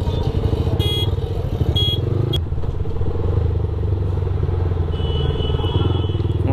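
A motorcycle on a Sunday city ride in Indore carries a steady engine rumble and road noise close by throughout, with some clatter and a few brief higher tones.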